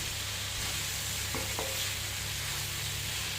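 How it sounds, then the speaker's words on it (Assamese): Jackfruit and potato pieces fry with spices in a pan, giving a loud, steady sizzle throughout. Two quick utensil knocks from stirring land close together in the middle. No one speaks. "কিছু সময় এনেদৰে ভাজি ল'ম"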